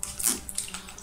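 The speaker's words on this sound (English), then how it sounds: "I just spraying some water." Short bursts of fine water mist hiss from a spray bottle onto hair, a few quick soft sprays close by and fairly quiet, with no voices.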